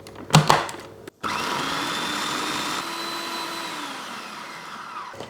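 Gluten-free white bread is blitzed into fresh breadcrumbs in a blender, with a couple of clunks before a loud, steady motor whir that slowly lowers in pitch as it runs, alone without speech.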